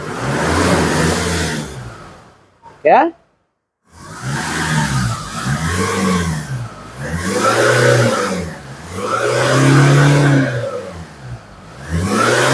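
A Nissan Navara D40 pickup engine cranks and fires, then is revved repeatedly in loud rising and falling surges close to the microphone, with a brief spoken word near the start; the truck has a fault where it dies after reaching about 3000 rpm.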